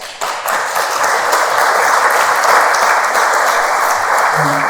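Applause from a panel audience at a documentary event in a museum: dense, steady clapping that fills the room at full loudness and continues evenly from start to finish.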